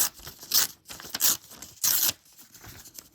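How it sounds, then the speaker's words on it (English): Paper bark rubbing is ripped apart by hand in several short, crisp tearing bursts separated by brief pauses, close and fairly quiet, with no voices. "I'm not going to use scissors, I'm going to rip it."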